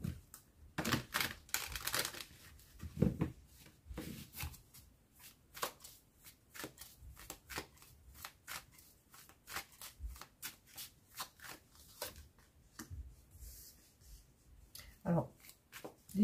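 Tarot cards are shuffled by hand for a reading, a long run of quick, crisp riffling and slapping bursts in uneven rhythm, close and fairly soft, with no one talking.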